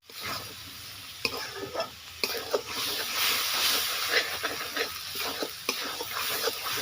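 Ground spices (salt, turmeric, black pepper, chilli and coriander powder) frying in a pan for masala mushroom with potato, a steady close hiss and sizzle broken by repeated spatula scrapes and taps.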